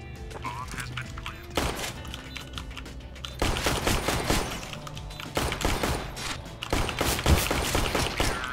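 Suppressed MP5-SD bursts in the game CS:GO, with several sustained rapid volleys of close gunfire separated by short pauses, busy and fairly loud throughout.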